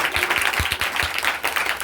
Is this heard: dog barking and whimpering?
no